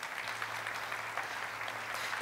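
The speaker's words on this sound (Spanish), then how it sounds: "Démosle un aplauso a Josué" Church congregation applauding Josué for his service, a steady wash of clapping from many hands, fairly distant and soft, with no speech over it.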